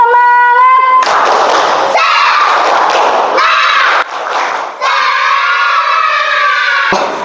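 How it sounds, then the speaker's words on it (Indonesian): A classroom does a rhythmic clapping chant, with bursts of loud group claps and shouts close by after a short sung or spoken lead-in, and a brief dip partway through. "kita tepuk semangat sekali lagi ya"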